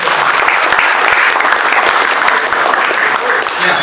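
An audience at a discussion forum with millennials and Gen Z applauds steadily and loudly for a few seconds, with faint voices mixed into the clapping.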